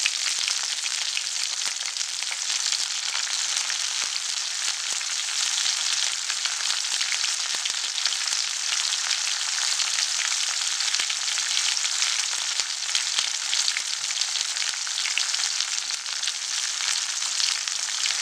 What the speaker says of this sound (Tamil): வெங்காயம் அந்த வெட்டி வச்சுருக்க மிளகாவையும் அதில் போட்டு நல்லா வதக்கணும்.